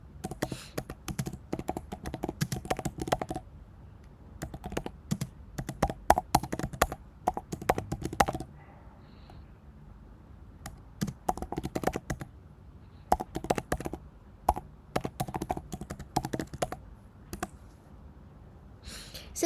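Bursts of rapid clicking on a computer keyboard come in several separate runs of typing, broken by short quiet pauses, close and crisp with no talking over them.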